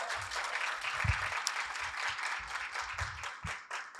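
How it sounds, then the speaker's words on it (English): An audience at a community program applauds, a dense, steady wash of many hands clapping close by with a few louder individual claps standing out, no speech over it. "Can we give them a round of applause?"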